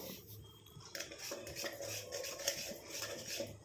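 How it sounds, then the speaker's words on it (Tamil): Spoon stirring a warm black cumin hair dye mixture in a pan, a quiet, steady scraping and rubbing with faint metallic contact throughout. "கொஞ்சம் நல்லா இந்த மாதிரி மிக்ஸ் பண்ணி விட்டுக்கிட்டே இருக்கணும்"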